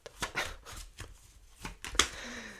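Tarot cards being shuffled by hand: a quick series of crisp, close riffling and slapping card sounds in irregular bursts, fairly quiet, with no talking.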